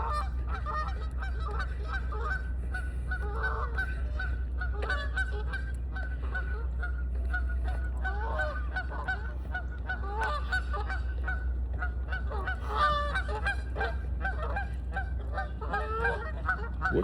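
A flock of ducks honks repeatedly outdoors, a steady stream of overlapping nasal calls at moderate distance over a constant low rumble, with no clear talking.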